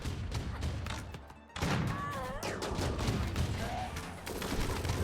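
Turret gunfire in the video game Rimworld rattles in dense, continuous bursts of rapid thuds and cracks, loud and cluttered, with a brief drop partway through before the barrage resumes.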